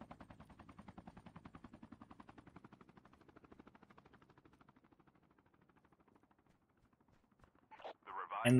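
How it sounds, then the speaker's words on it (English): Rapid machine-gun fire rattles in a long continuous burst aimed at a helicopter in Call of Duty Mobile, fading gradually before a louder sharp burst at the end. "Deciding to shoot the helicopter here."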